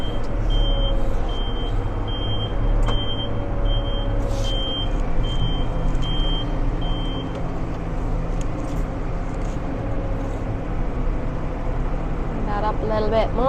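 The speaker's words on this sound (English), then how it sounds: "There's actually a reversing buzzer on this as well" A reversing buzzer on a Valtra N175 tractor beeps in a steady, regular series over the low drone of the running diesel engine, fairly loud and close, with the engine continuing after the beeping stops.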